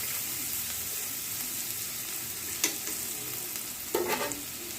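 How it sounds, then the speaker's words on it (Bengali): Onion frying in a pan, a steady sizzle throughout with a couple of brief scraping stirs, no talking. "পেঁয়াজটা আমার ভাজা ভাজা হয়ে এসেছে"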